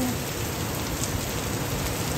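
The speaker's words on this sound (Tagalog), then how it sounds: "Ang lakas ng ulan" Heavy rain pours steadily on a surface, a dense continuous hiss with drops drumming close by, loud and unbroken, with no voices over it.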